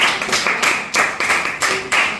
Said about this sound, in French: on peut les acclamer, on peut les applaudir.